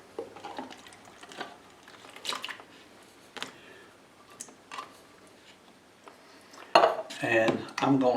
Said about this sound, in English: I'm going to put these in a plastic container.